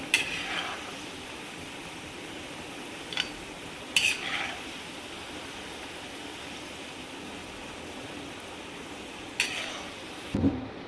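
Potatoes fry in oil with a low, even sizzle, while a spatula scrapes and clanks against the pan in a few separate stirring strokes spaced across the stretch.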